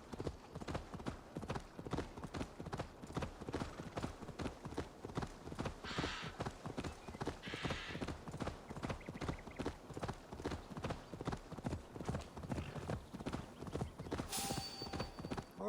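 Horse hooves clip-clopping in Assassin's Creed Valhalla, a steady fast rhythmic trot throughout, quiet and close, with no talk.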